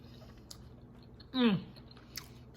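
Chewing creamy French garlic chicken dipped in sauce, one short moist bite and crunch close to the mic, with faint clicks before and after in a quiet room.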